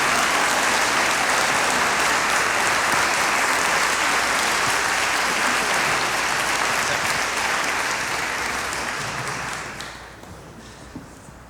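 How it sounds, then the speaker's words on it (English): Loud, sustained applause from a full audience at a public talk event fills about ten seconds before thinning to scattered claps and settling down. "So please, round of applause, John Hendrix."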